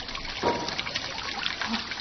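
Spring water trickles gently in a temple stream, a soft continuous wash of running water heard close with faint splashes and no voices.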